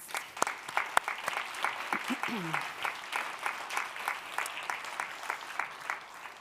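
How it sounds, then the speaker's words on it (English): Applause from an audience at a culture summit, steady rhythmic clapping across the hall with a brief voice sound midway, continuing evenly at moderate distance. "Big applause."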